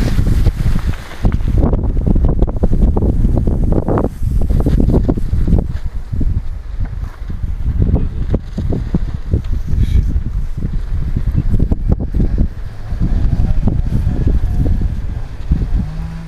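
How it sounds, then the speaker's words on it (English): Strong, turbulent wind buffets the microphone on a beach at Berck-sur-Mer, a continuous loud low roar with gusty surges and no speech throughout. "windy day today, and the wind is very turbulent on the ground"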